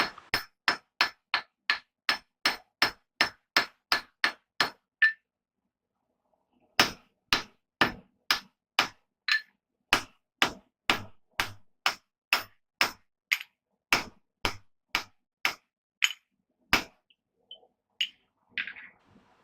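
Rapid, steady hammering on an anvil as steel is forged into a cross peen hammer, a quick run of blows, a brief pause, then a long series of ringing strikes up close.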